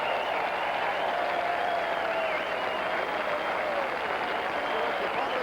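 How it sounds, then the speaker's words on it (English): A huge racetrack crowd at the Belmont Stakes cheers and applauds Secretariat. The dense, sustained roar continues without a break, and an announcer's voice can be heard beneath it. "here is Secretariat, the horse of the hour right now, and the crowd loves it"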